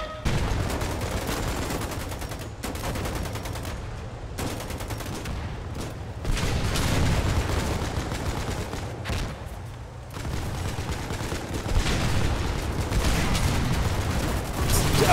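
Rapid, sustained gunfire and clattering shots pound against a tank during a nighttime-to-daybreak siege battle in a video game, loud and nearly continuous with brief gaps between volleys.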